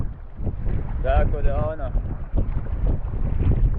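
Strong wind of about 15 knots buffets a sea kayak on choppy water off Split, Croatia, with waves washing around the hull as someone talks over the rushing noise.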